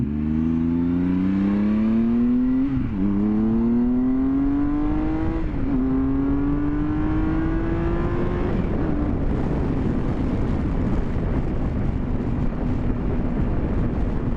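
A 2014 Triumph Tiger Explorer motorcycle engine drones steadily while riding, its pitch rising through gear changes amid loud wind rush, with no talking.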